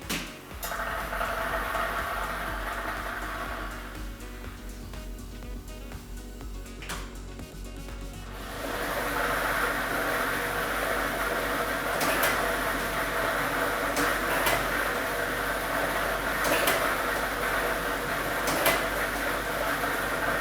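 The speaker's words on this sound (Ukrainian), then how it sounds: "І ми вмикаємо лототрон." Lottery ball drawing machine switched on during a televised Loto Maksyma draw, a steady blower roar with scattered light clicks and clatter of tumbling balls, rising after a brief quieter lull and continuing at even loudness.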